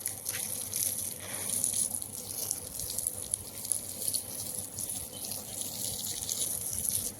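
Water sprays steadily into a hole in the ground, a continuous soft splashing hiss that stays even throughout.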